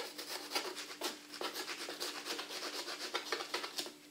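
A knife cuts a courgette into pieces while preparing a vegetable curry, giving soft, quick rubbing and scraping strokes in a steady run, close and fairly quiet, with no talk.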